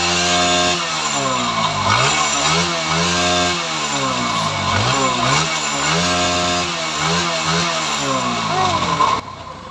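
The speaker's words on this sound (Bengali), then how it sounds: "তো এই তো বাইকটি সাউন্ড শোনেন" A Pulsar NS 160 motorcycle with an engine oil problem runs nearby, its engine note rising and falling in repeated short revs over a steady idle, with a person talking alongside.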